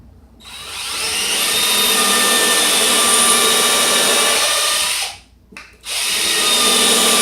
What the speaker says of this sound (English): Careful when you're drilling, the bit can get hot, very hot, hot enough to burn you